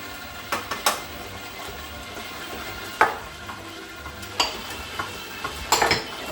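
A spoon scrapes and clacks through stiff cookie dough laden with oats and dried cranberries in a bowl, scattered soft thumps and clinks at an irregular pace, close and fairly quiet.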